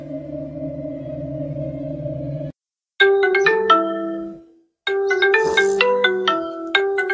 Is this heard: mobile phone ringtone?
yes